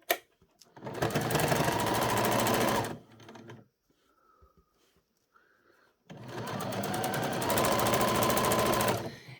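Sewing machine stitching a doll's dressing gown, two loud bursts of rapid steady stitching separated by a quiet pause with faint clicks as the needle is set and the fabric pivoted.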